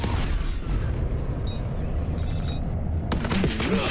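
Continuous gunfire in a multiplayer shooter match during a bomb-planting round, steady dense bursts filling the whole span with a louder burst near the end.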